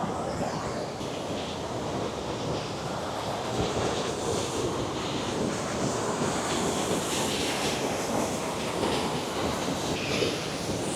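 A large volume of water rushes through a scenic spot and throws up mist, heard as a steady, broad roar that holds even throughout with no pauses and no one speaking.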